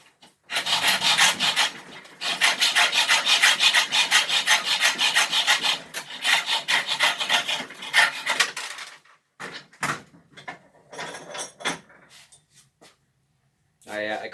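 A clamped nail at a forge is sawn to length with a steady rasping back-and-forth stroke, close and fairly loud, trailing into scattered scrapes and knocks.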